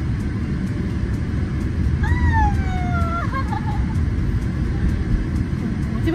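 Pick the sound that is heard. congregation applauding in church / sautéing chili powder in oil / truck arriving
truck arriving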